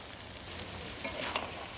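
Spices and mutton tripe (bhuri) frying in a pan, a steady broadband sizzle with a brief louder stir or spatter near the end, no voices.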